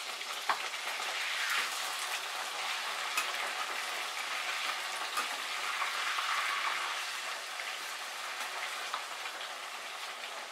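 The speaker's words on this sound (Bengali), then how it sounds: "এবার ধীরে ধীরে আমি মাছগুলোকে উল্টে দেব, যাতে অপর পিঠটাও খুব সুন্দরভাবে ফ্রাই হয়ে যায়।" Pieces of boal fish fry in a pan with a continuous, even hiss and scattered small crackles and pops, close and moderately loud throughout with no talking.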